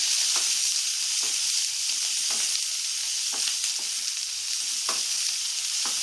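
Chopped onion fries in oil with five-spice, nigella and fenugreek in a Bengali-style soybean dish. A constant bright sizzle is broken by regular light scrapes of a spoon against the pan, with no speech.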